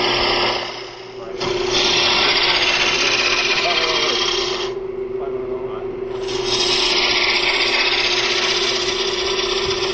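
A roughing out gouge runs along a spindle of wood spinning on a lathe, a steady hissing scrape with a constant motor hum underneath, pausing briefly twice.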